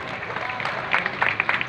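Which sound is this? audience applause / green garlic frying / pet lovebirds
audience applause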